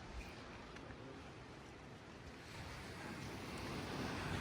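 Sea waves wash steadily against the shore of a small island near Doliya village, forming a continuous roaring surf mixed with gusty wind buffeting the microphone and swelling slightly louder toward the end.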